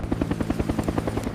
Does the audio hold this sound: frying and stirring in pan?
no